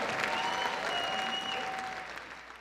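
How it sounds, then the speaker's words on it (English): Audience applause and cheering for the nine contestants of a comedy competition show, a full round of clapping that starts strong and gradually fades, with a few whoops and raised voices mixed in. "How about a round of applause for all the contestants you saw tonight, all 9?"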